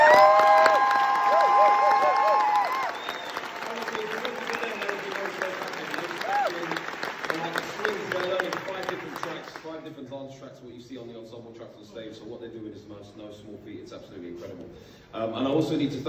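A West End theatre audience at a Hamilton cast-change curtain call applauds and cheers loudly. The dense clapping and whoops fade after about ten seconds, and a voice speaks over the dwindling claps.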